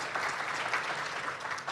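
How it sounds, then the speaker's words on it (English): Audience applause at an HR conference, a steady wash of many hands clapping in a hall, sustained and fairly even throughout at moderate level. "Could we have a round of applause from the house here?"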